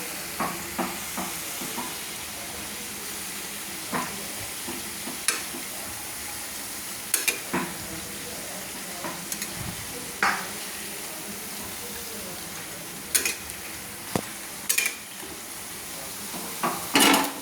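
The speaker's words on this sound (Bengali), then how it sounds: "এইভাবে ভেজে নিতে হবে লো ফ্লেমে এইভাবে সুন্দর করে একদম লো নয় একদম হিট নয় মাঝারিতে রেখে ভেজে নিতে হবে" Luchi fry in hot oil over a medium flame, a constant moderate sizzle broken by frequent sharp clicks and scrapes of a utensil turning the puffed bread.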